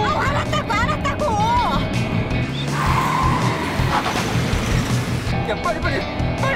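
A car speeds through a chase with loud engine roar and tire squeals skidding across the road, continuous throughout, while people talk over it.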